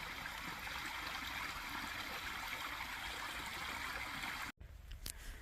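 Water streaming steadily over a flooded hiking trail, a soft continuous trickling rush heard up close, ending abruptly with a brief dropout and quieter gurgles.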